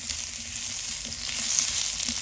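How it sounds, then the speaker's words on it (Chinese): Pumpkin stir-fried in a wok over high heat with scallion and garlic gives a steady, close sizzle and crackle, with constant tossing and scraping. No one speaks. "开大火不停的翻炒，多炒一会儿"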